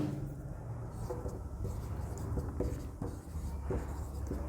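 Chalk or marker scratching across a classroom board as a sentence is written, a steady run of short scraping strokes with small taps, fairly close, over a faint room hum and no talking.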